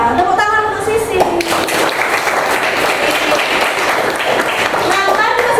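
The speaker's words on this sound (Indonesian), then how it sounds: "Tepuk tangan untuk Sisil." Classroom of children clapping for a pupil named Sisil, loud, dense and steady applause close by, with voices speaking over it at the start.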